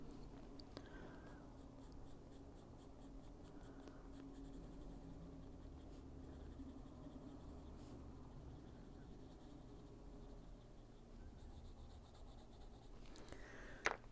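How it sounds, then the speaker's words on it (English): Colored pencil scratches steadily across paper, a continuous soft dry rasp with a gentle rhythm of strokes, close and quiet, with a brief louder scrape near the end. "One pencil"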